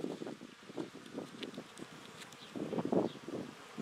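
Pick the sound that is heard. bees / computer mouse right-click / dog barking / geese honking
bees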